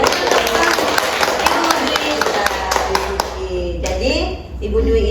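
An audience at a vocational school gathering claps in a brisk, rhythmic burst for about three seconds before it fades and a voice speaks.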